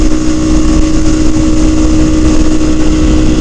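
A Kawasaki Ninja 300 motorcycle cruising at 75 mph around 8,000 RPM, a steady loud high engine hum mixed with heavy wind rush, continuous and close throughout.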